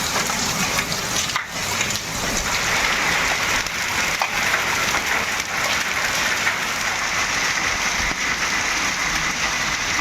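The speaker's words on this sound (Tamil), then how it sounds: "பலத்த காற்றுடன் ஆலங்கட்டி மழை பெய்தது" A hailstorm with strong wind near Hosur in Krishnagiri district, Tamil Nadu, makes a dense, steady roar of pellets hammering surfaces, loud and continuous throughout.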